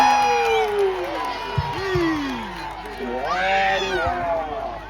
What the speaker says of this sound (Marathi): टाळ्या टाळ्या टाळ्या टाळ्या टाळ्या टाळ्या